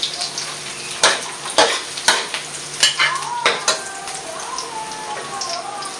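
Carrots stir-frying for shrimp fried rice, a steady close sizzle with repeated sharp scrapes and clatters of a spatula in the pan, some tinkling metal touches and faint background sounds, no talk.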